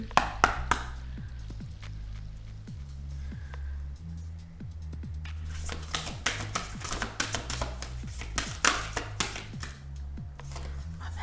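Tarot cards are shuffled and drawn by hand at close range: a run of quick, crisp papery snaps and flicks, irregular and clustered, fairly quiet over a low steady background hum.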